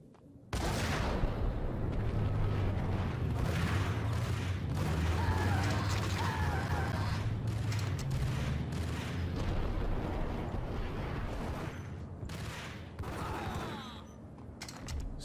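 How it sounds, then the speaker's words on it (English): A grenade goes off amid heavy gunfire in Max Payne, a loud sustained roar of booms and rapid shots running almost without a break, with a deep rumbling low end throughout. "Sjebo me bombom neko"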